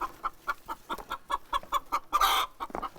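Hens on a farm cluck in a steady run of short, close calls, one brooding hen sitting on four eggs, with a louder, harsher squawk near the end; no talk.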